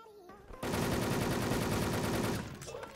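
Rapid automatic gunfire from Wolfteam rattles loud and close in one sustained burst lasting about two seconds, then cuts off into quieter game sounds.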